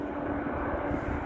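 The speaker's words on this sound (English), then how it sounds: "This is it, approaching plane," A British Airways airliner on approach to land at London City Airport on a stormy evening gives a steady, loud jet engine roar with a low rumble that holds throughout.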